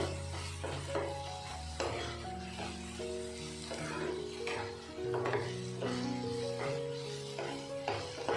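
Ginger garlic paste frying in a pan, with a soft sizzle under repeated scraping and clinking as a spoon stirs it, while tonal background music plays throughout.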